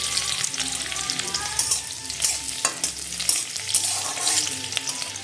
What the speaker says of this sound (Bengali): কড়াইতে দিয়ে দিচ্ছি সর্ষের তেল দিচ্ছি শুকনো লঙ্কা আর দিয়ে দিচ্ছি আগে থেকে শুকানো রসুন